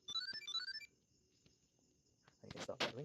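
A Samsung Smart Tag 2 rings in a dark room with a quick rising chime melody repeated a couple of times, close and clear, followed by someone speaking.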